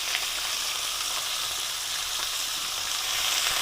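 Thin julienne-cut steak for homemade döner sizzling in a hot pan, a steady close crackling hiss that continues without pause.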